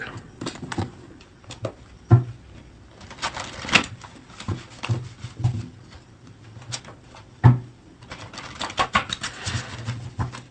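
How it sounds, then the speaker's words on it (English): Tarot cards being shuffled and drawn from a deck, irregular papery flicks and sharp snaps in uneven bursts, close by, with quiet gaps between them. "so let's get some cards from this deck"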